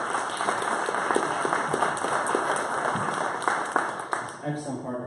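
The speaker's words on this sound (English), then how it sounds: "If you can get a round of applause for them," A bitcoin meetup crowd gives a round of applause for event helpers, dense clapping filling the room steadily, then tapering off near the end as a speaker's voice returns.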